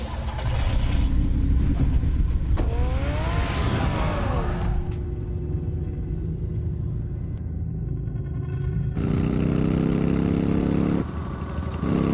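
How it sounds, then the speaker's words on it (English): Car engine in a Batman story starting and pulling away, a loud low rumble with a rising rev around the middle, settling into steady driving drone, then a brief louder surge near the end; no talking. "Get the car ready, Alfred."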